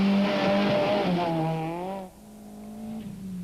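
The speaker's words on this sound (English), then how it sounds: "Craig Trott in the second-placed A6 Team Total Toyota Corolla" Toyota Corolla rally car in the A6 class powering past at speed, a loud harmonic engine note rising and falling as it passes close by, then fading to a lower drone as it moves away.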